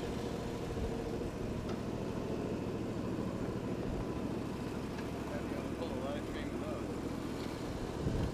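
A 16 horsepower live steamer locomotive engine with hydraulics runs at a steady, low rumbling drone throughout, with faint knocks and background noise around it.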